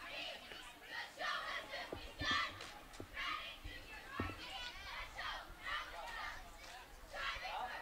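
Girls' competition cheer during halftime at a Pop Warner youth football game, with a crowd of young voices shouting and chanting in loud rhythmic bursts, clapping and stomping accents scattered through it.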